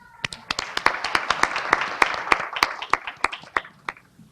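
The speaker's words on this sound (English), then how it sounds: "Please clap as we welcome this hardworking man" A gala audience at a youth empowerment awards night applauds to welcome a speaker, a broad wash of many hands with sharp, distinct nearby claps standing out in a quick, uneven rhythm.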